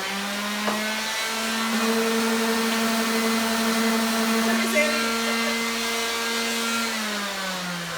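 A steady, loud electric motor whine from a power sander runs continuously and close up, holding one pitch before dropping slightly near the end.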